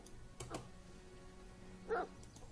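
A dog in the fantasy role-playing video game Pathfinder: Kingmaker gives two short, separate barks about a second and a half apart, at moderate loudness, with no talking.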